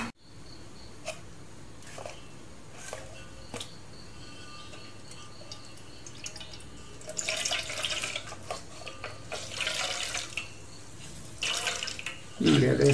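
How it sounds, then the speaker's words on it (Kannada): Water is poured onto grated coconut to press out thin second coconut milk for neerunde. A quiet start gives way to bursts of splashing and trickling in the second half. "ಇದಕ್ಕೆ ಸ್ವಲ್ಪ ನೀರು ಹಾಕಿ ನಾವು ಸ್ವಲ್ಪ ತೆಳುವಿನ ಕಾಯಿ ಹಾಲು ತೆಗೆದುಕೊಳ್ಳುವ"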